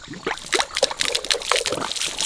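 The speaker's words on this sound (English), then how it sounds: "That's fresh spring water." Fresh spring water runs from a clear valve on a longhorn cattle ranch, a close, irregular trickle and splash in short bursts.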